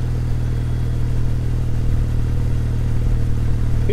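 The air-cooled engine and exhaust of a Kawasaki W800 motorcycle rumble steadily while it is ridden on a mountain pass road, a loud, continuous low drone heard up close.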